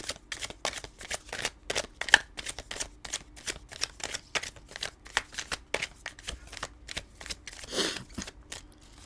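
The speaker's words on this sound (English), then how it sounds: "We're going to do a three shuffles, and then we're going to take the top card." Tarot cards are shuffled repeatedly, a quick run of crisp riffling bursts in a quiet room, with a longer shuffle near the end.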